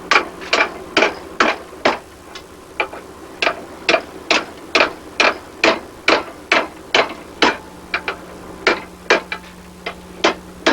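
Hammer blows on hot metal bent around a pipe set in a blacksmith's anvil, a steady series of about twenty sharp ringing strikes at a regular rhythm, close and loud with brief pauses.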